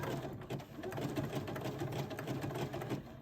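A sewing machine running a zigzag stitch on glued fabric during free motion embroidery, a steady fast mechanical whir and chatter that carries on unbroken at close range.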